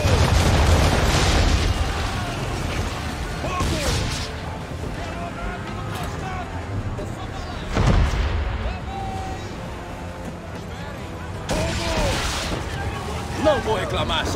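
Ship cannons fire in a naval battle in Assassin's Creed 3, with a heavy boom near the start and further booms around eight and twelve seconds over steady battle and sea noise, while voices talk throughout.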